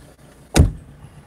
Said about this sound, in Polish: Weź przymknij drzwi.